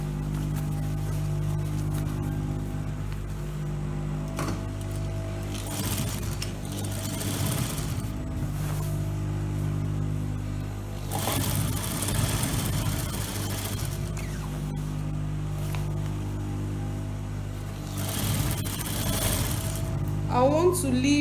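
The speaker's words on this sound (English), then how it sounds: "Then I'll start to sew it." Sewing machine stitching the lining of a long pencil skirt, a steady mechanical hum running throughout with occasional louder whirring surges.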